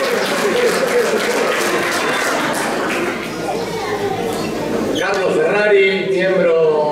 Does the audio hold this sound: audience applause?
yes